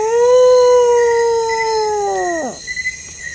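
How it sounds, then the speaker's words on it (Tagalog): An aswang monster in a horror video game lets out a loud, close, drawn-out howl that bends downward and cuts off after about two and a half seconds, followed by brief quiet rustling. "Kakaiba tong aswang na to, bro. Tumatahol, umuuwang."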